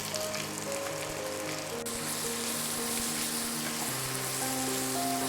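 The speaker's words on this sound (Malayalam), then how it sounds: "എണ്ണ ഇപ്പോൾ നല്ലതുപോലെ ചൂടായിട്ടുണ്ട്. ഇതിലോട്ട് നേരിയതായി അരിഞ്ഞ സവാള ഇട്ട് നല്ലതുപോലെ വഴറ്റിയെടുക്കാം." Thinly sliced onions sizzle steadily in hot oil, a dense continuous frying hiss with faint stirring, from a home kitchen making Kerala-style country chicken curry.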